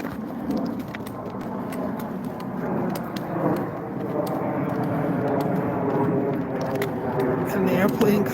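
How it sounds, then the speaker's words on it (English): Airplane passing overhead above a nature park, a broad rumbling drone that swells gradually over several seconds beneath people talking nearby. "the airplane coming overhead"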